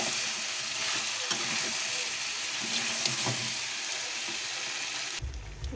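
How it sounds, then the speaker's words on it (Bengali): Meat with masala fries in a pan under a dense, steady sizzle with scattered stirring scrapes, close up, until the hiss cuts off abruptly near the end. "মাংসটা ভাজা ভাজা হয়ে গেছে।"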